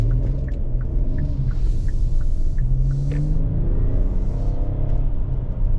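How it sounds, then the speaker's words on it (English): Engine of a 2023 Hyundai Palisade Limited with a 3.8-liter V6 accelerating on a highway, a steady low rumble and rising drone heard from inside the cabin, with road and tire noise throughout and no talking. "Gets the car up to speed, no problem."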